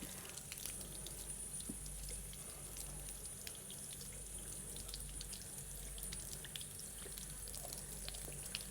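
Tap water runs steadily into a sink during a surgical hand scrub, a constant, even wash of flow and splashing that continues throughout with no talking.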